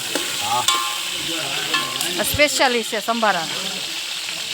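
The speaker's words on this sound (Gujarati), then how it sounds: "શાક બની ગયું ને અહીંયા મરચાં તળે" Green chilies frying in hot oil while a vegetable dish is being made, a loud continuous sizzle with scraping stirs throughout, under a voice talking.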